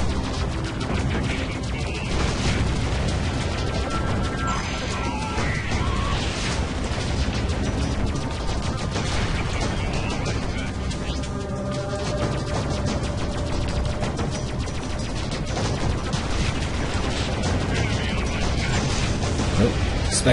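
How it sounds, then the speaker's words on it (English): A space-combat explosion in the video game Freelancer. Dense, continuous crackling blasts and gunfire-like bursts roll on at a steady loud level under a game soundtrack, with someone talking over parts of it. "Oh, spectacular explosion."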